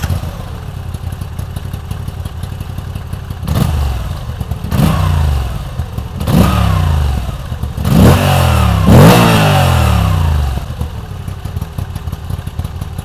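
A Moto Morini Corsaro/Komodo motorcycle engine idles steadily, then blips its throttle in four or five sharp, rising revs of growing length, each falling back to a lumpy idle, loud and close with no talking.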